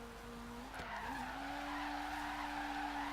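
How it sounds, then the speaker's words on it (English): A car drifts in the Forza Horizon 3 video game, its tyres squealing in a long, steady screech over a constant engine drone, with a short bump partway through. "Let's see if I can somehow do a nice little drift at this area here without hitting the corner."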